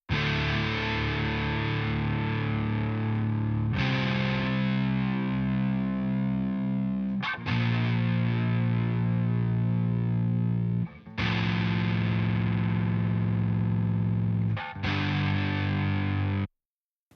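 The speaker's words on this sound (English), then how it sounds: "we're going to go listen to the left guitar." The left guitar track of a mix: heavily distorted electric guitar plays sustained power chords in long held blocks, changing chord every few seconds, loud and saturated with no voices.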